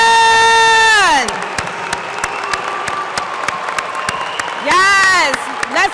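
An audience at a university commencement applauds new graduates with a dense wash of clapping. Long, sliding cheers and whoops rise over it at the start and again near the end.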